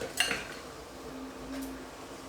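Rinsed canned chickpeas tumble into a soup pot of water with a sharp metallic clatter and splash at the start, then fade to a quiet kitchen background without talk.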